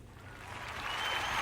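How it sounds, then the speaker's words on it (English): An audience claps in a dense, continuous wash of applause that swells toward the end. No voices are heard over it. "You're clapping on that part"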